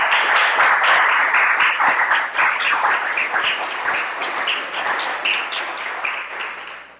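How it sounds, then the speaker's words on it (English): Audience applause welcomes a lecturer at an arts lecture series in the Black Box in Aruba, dense steady clapping from a crowd filling the whole stretch and fading slightly at the end. "So with you tonight, with a warm applause, Ms. Annalee Davis of Fresh Milk, Barbados."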